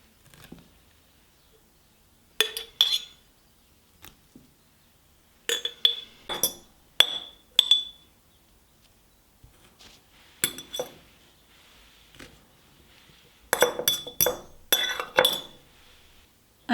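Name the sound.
fennel confit being put into glass jars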